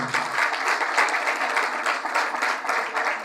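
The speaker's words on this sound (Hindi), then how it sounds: "खुदा के जलाल के लिए जोरदार तालियां बजाएं" A church congregation bursts into vigorous applause during a pastor's sermon, a continuous wash of many clapping hands at steady volume throughout, with no speech over it.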